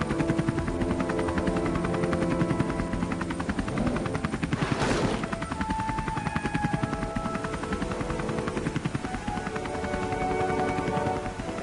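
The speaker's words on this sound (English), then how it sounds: "have one triumphant helicopter ride into the sunset" A steady, loud chopping drone of a helicopter in the video game Poptropica, with a synthetic, game-like tone, continuous throughout with a brief whooshing swell in the middle.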